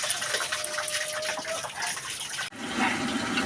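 Water poured into a cooking pot while a soybean vegan dish is being prepared at a festive home gathering, a steady gushing splash with a faint thin tone, then a brief break before the pouring resumes.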